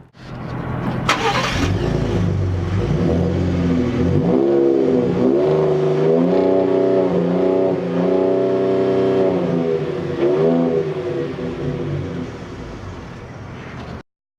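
A Ford F-150 Raptor pickup truck's engine starts up and then revs repeatedly, rising and falling in pitch in a steady series of throttle blips, close and loud, with no talking.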